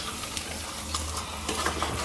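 Onions frying in a pan for a Kerala-style green pepper chicken curry, stirred steadily with a utensil. A continuous sizzle runs close and moderately loud, with scraping strokes over it and no talk.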